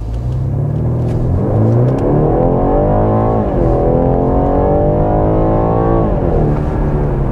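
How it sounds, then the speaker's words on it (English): A 2021 BMW 430i coupe in sport mode launches without launch control, its engine roaring loud and close, rising steadily in pitch through the gears with brief dips at each shift. "Getting on to a quick launch here without launch control, I have it in sport mode."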